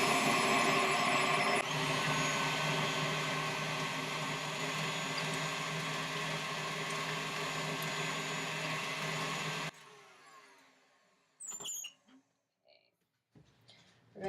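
An electric mixer beats butter and sugar in a steady loud whir for about ten seconds, then cuts off, leaving a few faint clinks and knocks in a quiet kitchen.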